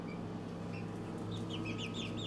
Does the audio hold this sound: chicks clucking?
yes